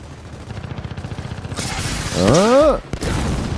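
The Drop Shot weapon from Gears of War 4 fires in multiplayer, with a rapid rattling buildup followed by a loud whooshing, rising-and-falling launch and a sharp burst.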